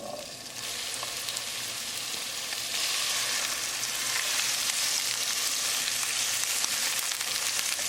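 Pre-cooked garbanzos sauté in a tablespoon of olive oil in a fry pan, giving a steady, dense sizzle that grows a little louder partway through and holds with no voices.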